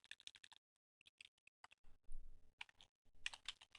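Typing on a computer keyboard gives quick, faint clusters of crisp key clicks with short pauses between bursts and a soft thump in the middle.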